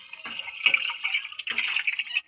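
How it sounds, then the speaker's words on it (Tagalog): Water runs from a faucet in two close, splashy bursts, a bright hissing stream that briefly eases between pours. "Sana all may gripo."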